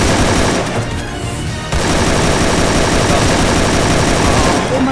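Rapid automatic gunfire in the mobile battle-royale game Free Fire, loud and dense, with sustained bursts that barely let up across the whole stretch.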